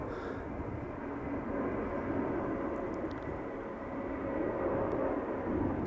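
Airliner departing from the parallel runway at Amsterdam Schiphol, a distant broad jet roar that swells slightly and holds steady, with no voices.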